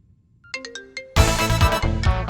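Mobile phone ringtone for an incoming call in a Tamil comedy scene: a few bright melodic tones, then a louder, fuller ringing melody with rhythmic pulses, played alone and close.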